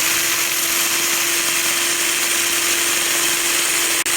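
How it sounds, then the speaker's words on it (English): A power drill on its faster second setting grinds steadily into a stuck Shimano gear shifter cover screw, one continuous close, loud whine with a brief stop at the very end. "I can actually use it on the number 2 setting for a faster effect of drilling"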